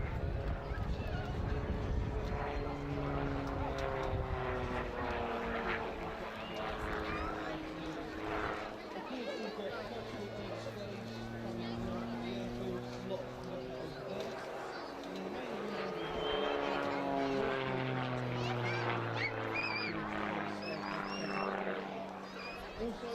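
A CAP aerobatic propeller plane, serial number 32, performs at a D-Day 80 airshow, its engine droning and shifting in pitch throughout under continuous commentary from a man.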